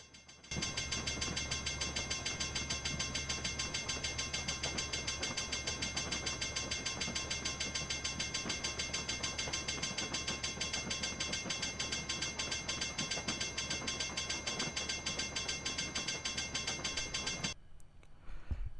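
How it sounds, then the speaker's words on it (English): Train 6EBS, pulled by four locomotives, passes the depot on the Horsethief subdivision as it slowly accelerates, making a steady mechanical clatter and rumble with a low engine drone that holds level before cutting off near the end. "Let's watch train 6EBS slowly pass the depot while slowly accelerating to its max speed."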